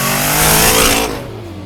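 A 1972 Chevy truck built as a pro-touring hot rod revs once through a hand-built 2.5-inch stainless exhaust with a 50 series muffler, a loud, close rising blast that eases off after about a second.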